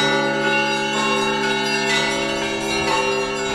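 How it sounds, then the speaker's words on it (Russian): Live church bells ringing at the Kolomenskoye museum-reserve in Moscow on a winter day: loud, sustained overlapping peals with rich ringing overtones, continuous and undamped, with fresh strikes layering over the hum. "этот колокольный звон – это не просто запись в колонках, это живое, то, что происходит сейчас"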